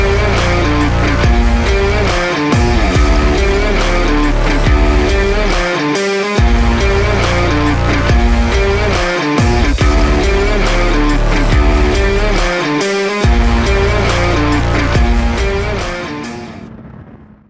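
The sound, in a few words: Honda CBR 650R motorcycle with E-Clutch riding through bends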